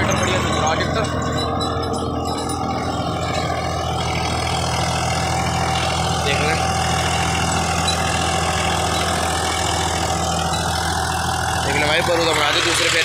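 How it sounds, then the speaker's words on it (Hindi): A Swaraj 744 FE tractor engine drones steadily and loudly throughout, a constant low rumble with the churning of a seven-foot Fieldking rotavator layered on top, close by. "देख लो रोटावेटर बढ़िया चल रहा ट्रैक्टर"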